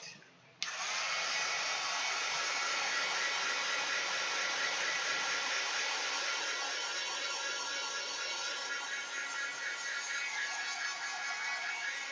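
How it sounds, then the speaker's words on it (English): A hair dryer runs steadily and loudly on a craft project beside a Sizzix Vagabond 2 die cutting machine. Its blowing whoosh switches on abruptly and then holds constant for about twelve seconds, with no talking over it. "Let me dry that a quick second."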